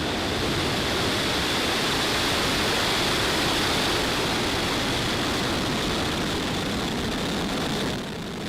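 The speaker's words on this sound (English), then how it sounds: "Ignition and liftoff." Roar of a rocket engine at ignition and liftoff, a continuous broad rumbling blast that stays loud and steady throughout before easing slightly at the very end.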